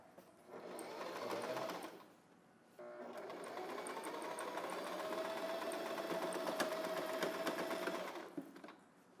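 A sewing machine runs close by, stitching a single layer of tank-top fabric for a girl's dress: a steady whirring hum in two bursts, a short run, a pause, then a longer continuous stretch, with no voices.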